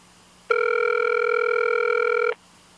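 A telephone rings once in a single long electronic tone during a speakerphone call, loud and steady for about two seconds over a quiet background, with no talking.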